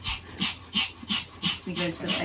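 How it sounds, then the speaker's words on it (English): A yappy pet dog makes a quick run of short, sharp yips and panting bursts in a steady rhythm, fairly close and moderately loud. "No one likes a yappy dog."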